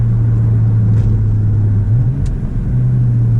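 A five-cylinder Audi RS3 engine drones steadily from inside the car while driving, a low tonal hum with a brief dip in pitch partway through, loud and close under road rumble, with no talking.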